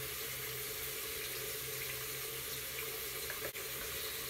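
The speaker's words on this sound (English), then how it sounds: "first thing I do is wet my brush up here" Water runs steadily from a bathroom tap to wet a skincare brush, a continuous splashing hiss heard alone and fairly faint.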